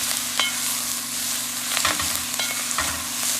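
Drumstick leaves fry in oil for an egg thoran, a loud continuous sizzle filling the pan while a spoon stirs with several sharp scrapes and knocks close by.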